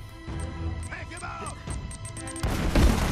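A grenade blows up in the video game Uncharted: Drake's Fortune, a sudden heavy, booming blast near the end that follows quieter in-game sounds, while someone talks over the gameplay.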